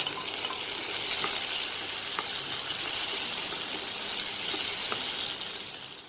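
Tomato pieces sizzle and fry steadily in a hot pan while cooking a fish curry, a continuous bright crackle with a few soft stirring clicks, close and alone without talk.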